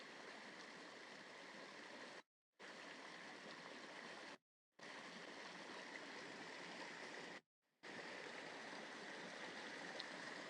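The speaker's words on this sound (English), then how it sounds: "There's a nice sound of running water for a second." A stream runs through Trentham Gardens, giving a steady broadband rush of water, fairly faint and distant, interrupted by three brief silent gaps.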